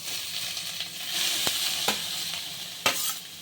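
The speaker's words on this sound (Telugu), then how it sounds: "క్యారెట్ 5 మినిట్స్ ఫ్రై చేసుకున్నాము." Grated carrot fries in a pan, giving a steady hiss and sizzle with a few sharp stirring clicks and scrapes.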